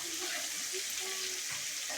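Pangas fish frying in a pan in a village kitchen, a steady close sizzle and crackle of oil running throughout with small stirring clicks and no talking.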